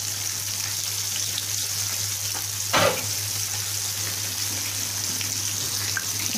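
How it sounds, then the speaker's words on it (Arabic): Onions frying and being stirred in hot oil for a red rice dish, a constant close sizzle with one sharp burst of clatter from the stirring. "هقلب بقى البصل واحمره"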